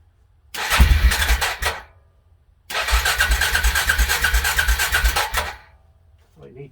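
A 2008 Suzuki King Quad 400 ATV, run with no gas in the tank, cranks and catches in two loud bursts: a short sputtering start that dies, then a longer pulsing run that cuts out again.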